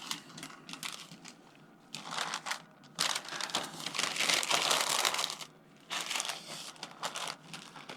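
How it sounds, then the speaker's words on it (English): Chuck roast being wrapped in butcher paper beside a Z Grills 1000 D4E smoker: close, loud crinkling and crumpling of stiff paper in bursts, with short pauses between folds and no talking. "I'll slap it right on that butcher paper right there. Now, spray that a little bit, and let's wrap it."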